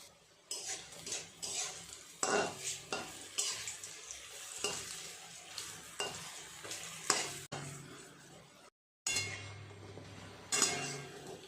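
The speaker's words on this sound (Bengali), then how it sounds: "এই বড়াগুলো ভাজা হয়ে গেল, তুলে নেব।" Lentil fritters for rosbora frying in oil, a soft sizzle broken by repeated clinks and scrapes of a utensil against the pan, with a brief gap of silence near the end.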